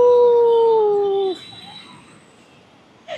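A man imitates a fox howl with one long, loud falling wail that trails off, followed by a quiet pause and a brief sound at the end.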